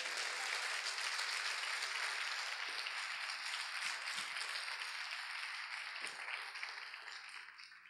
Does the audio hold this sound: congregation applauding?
yes